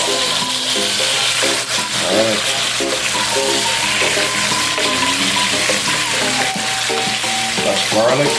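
Garlic and freshly diced tomatoes sizzle loudly and steadily in a hot pan, a dense frying hiss with scraping stir strokes and faint clinks throughout, and no voices.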